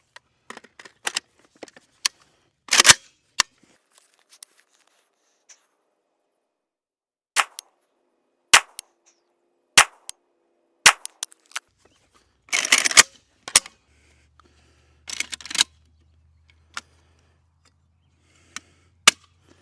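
Rifle chambered in 5.45 fires a quick string of sharp gunshot cracks, some spaced seconds apart and a few bunched together, with quiet pauses between reports at an outdoor range.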